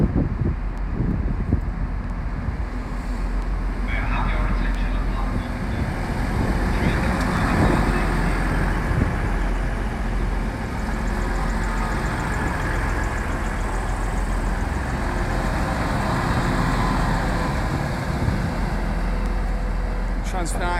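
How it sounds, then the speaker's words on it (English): A TransPennine Express train rolls into Manchester Airport station, where it terminates, a low rumbling engine drone under wind buffeting the microphone while someone talks over it. "Express coming into Manchester Airport"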